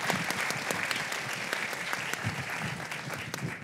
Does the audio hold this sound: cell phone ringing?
no